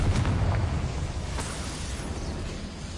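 In the video game Hogwarts Legacy, a Confringo spell detonates as a dense, loud, rumbling explosion that rolls on steadily for a few seconds.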